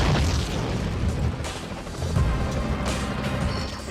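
Bomb blasts boom and rumble in the Spider-Man 3 PS2 video game, heavy low explosions rolling one after another with crashing debris, loud and continuous with no talk.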